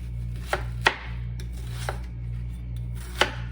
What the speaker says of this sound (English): You want to just go ahead and cut your onion.